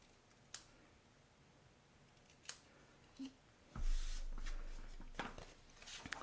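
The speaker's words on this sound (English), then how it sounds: "let's get these little tabs miter cut" Scissors cut small tabs from paper for a gift box, giving a few sharp isolated snips followed by a longer rustling cut, close and quiet with no voice.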